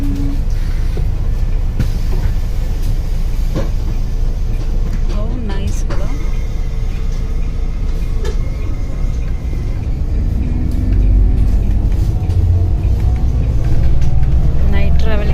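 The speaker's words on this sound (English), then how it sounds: "Yeah, this is the bus." Bus ride on Australian roads, a continuous low engine rumble and road noise with rattles and bumps throughout, growing slightly louder toward the end, with a voice talking over it.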